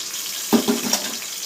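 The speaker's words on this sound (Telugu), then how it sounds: "గిన్నె కొంచెం తొలిపి పోస్తానండి," Water is swirled in a bowl and poured into an egg biryani pot, giving a few short splashy pours and gurgles over a steady background hiss.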